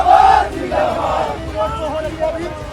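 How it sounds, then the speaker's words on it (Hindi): Election nomination supporters chanting slogans as an excited crowd, loud rhythmic shouted chants rising and falling in waves from a nearby mass of voices. "समर्थक नारा लगा रहे हैं और भीड़ उत्साहित है"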